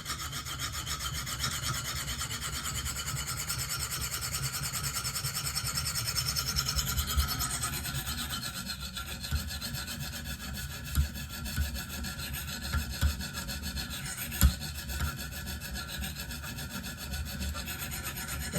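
KME sharpener working a Benchmade Steep Country knife, continuous close rasping strokes of blade on stone, steady at first and then broken by a few sharper scrapes and taps near the end.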